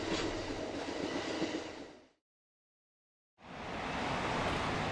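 Steady rumble and clatter of Amtrak's Coast Starlight train in the western United States, broad and continuous. It drops to full silence for about a second before returning at the same level.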